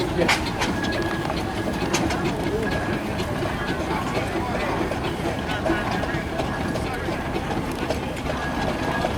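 Steam traction engine running at a country show, a rough, continuous mechanical rumble with clattering ticks throughout, steady and fairly close, while people talk in the background.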